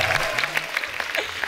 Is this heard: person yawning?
no